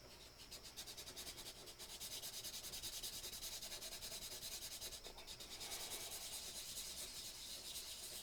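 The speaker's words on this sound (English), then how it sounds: "And once you've scraped it, take the sandpaper. You start off at the 1600." Sandpaper of 1600 grit rubs back and forth along a super glue seam line, giving a steady, soft, continuous scratching that stays fairly faint and close throughout, with no voices.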